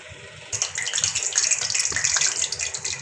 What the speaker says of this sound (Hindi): मैं इसके अंदर ज़ीरा डाल देती हूँ।